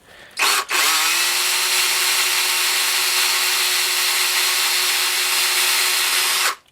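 A power drill bores out the pins on a Norscot Cat 365BL excavator model, giving a brief start, then a long, steady, loud whine that holds for about six seconds before cutting off.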